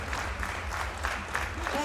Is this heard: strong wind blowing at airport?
no